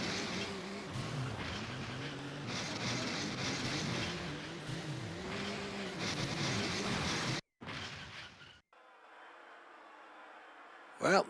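Cars in a retro car-destruction video game drive with a looping engine drone and sharp cuts between sounds. A short crash-like burst comes at the end, and a voice talks over part of it.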